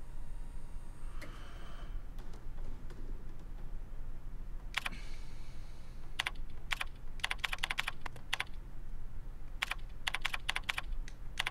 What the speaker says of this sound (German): Mit der Schreibmaschine.